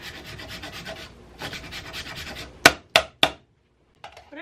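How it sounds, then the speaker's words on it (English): Frozen fresh turmeric root is rubbed against a grater in steady rasping strokes, close up, followed by three sharp taps and then a faint scrape. "Very easy to grate when it's frozen."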